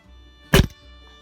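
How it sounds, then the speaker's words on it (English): An air rifle shot strikes a can, giving one sharp, close thunk that decays quickly into quiet. "I know I shoot too much of the spinner target, so we'll go for a can."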